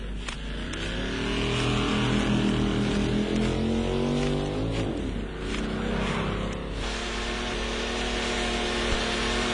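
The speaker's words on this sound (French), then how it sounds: "La Jaguar, qui va de plus en plus vite" A Jaguar car drives past at speed, its engine note rising and swelling loudly as it accelerates, with a sweeping pitch shift midway and a steady roar continuing afterward; no one speaks.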